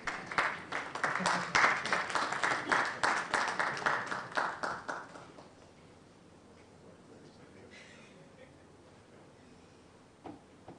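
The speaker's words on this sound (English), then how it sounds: "Let's welcome with a round of applause." An audience at the NSMQ 2022 launch welcomes Prudential Life's head of marketing with loud, sharp claps falling into a rhythmic beat for about five seconds before dying away to quiet room tone and a lone late tap.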